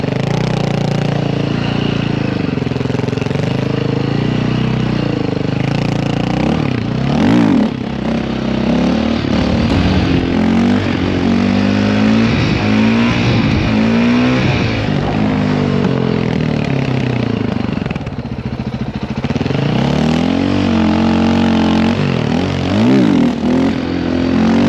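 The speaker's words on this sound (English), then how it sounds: "get a wheelie for you real quick" A dirt bike engine, on a trail ride with a YZ 85 and KTM 530, revs loudly and continuously up close, its pitch surging and falling in repeated throttle blips as the rider pulls a wheelie.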